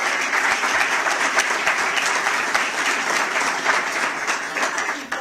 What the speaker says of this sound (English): A big round of applause for all the elected officials here